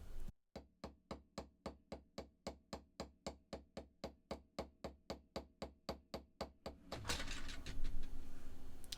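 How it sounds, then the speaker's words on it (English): Jewelry wire frame for a gemstone chip tree of life pendant being hammered on a bench block: steady, evenly spaced sharp metallic taps, about three per second, close and clear, then giving way to a rustling handling noise. "Place this on the bench block and just hammer around the outside of the frame."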